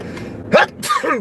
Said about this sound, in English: Now I'm getting ready to sneeze.